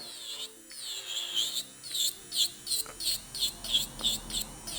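A high-pitched electric nail drill, a Makart Candy Coat Holo Candy, whines in repeated short bursts, rising and easing roughly every half second, close up with no talking.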